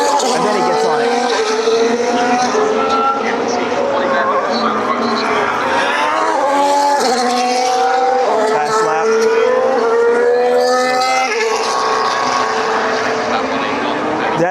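A Formula 1 race car accelerating around Circuit of the Americas in Austin, its high engine whine climbing and shifting through gears, loud and continuous, with a spectator talking over it.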